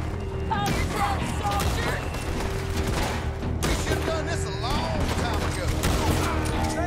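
Rapid bursts of gunfire from a Red Dead Redemption 2 shootout crackle continuously alongside in-game shouting voices, dense and loud throughout.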